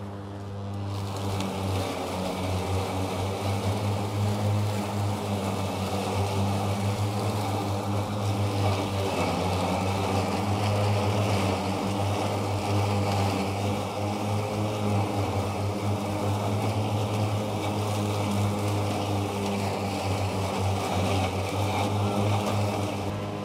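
A steady electric motor hum with whirring blades runs continuously, a droning, even mechanical sound up close with no talking, from an EGO Z6 ZT5201E-L battery ride-on mower, blades at three-quarter speed, cutting tough grass.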